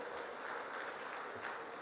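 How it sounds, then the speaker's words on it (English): Audience at a regional townhall meeting in Tamale, Northern Region, clapping for a chief; a steady, fairly faint wash of many hands continuing evenly throughout. "Let's acknowledge him with a round of applause"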